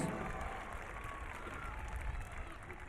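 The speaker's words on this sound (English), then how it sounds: "I can see 4 people clapping." Spectators at a squash match clapping, a light patter of scattered hands in an indoor arena, mixed with crowd murmur and a commentator's voice running over it.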